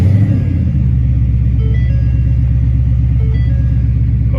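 A 2015-2023 Ford Mustang engine catches with a brief louder burst, then settles into a steady, close, deep idle rumble that continues alone.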